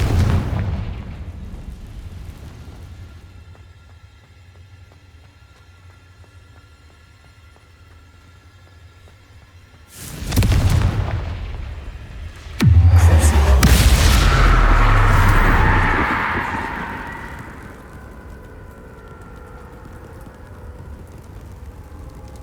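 Confringo fire-blast spell explosions in Hogwarts Legacy: a sharp blast around the midpoint, then a louder, longer roaring burst with crackling debris that slowly fades over low game ambience.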